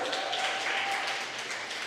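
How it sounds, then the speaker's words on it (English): Parents at a parent teacher conference applauding, a short steady burst of dense clapping from a crowded room, moderately loud and continuous throughout. "Clap it up for yourself."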